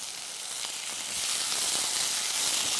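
Tomatoes and green chilies sauté in hot oil for a Goan fish curry, giving a steady, close sizzle that swells a little louder partway through and carries on without talk.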